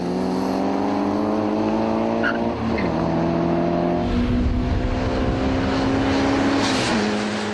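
A Nissan Bluebird race car launching off the start line beside another car, engines screaming loudly as the pitch climbs, drops at a gear change, then climbs again amid rough, roaring exhaust noise.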